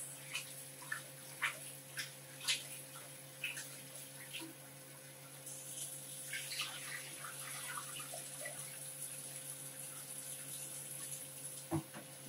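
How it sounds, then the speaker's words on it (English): Rice being washed in water in a kitchen, with soft splashing and swishing close by, a few sharper sloshes early on, over a steady background hum. "You must wash it till the rice becomes clear. The water becomes clear."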